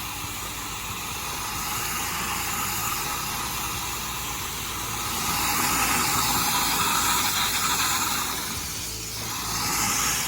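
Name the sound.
pressure washer spraying soap on dirty vinyl fence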